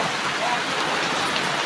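Heavy rain pours down steadily, a dense, even hiss that fills the whole moment without a break, close and fairly loud.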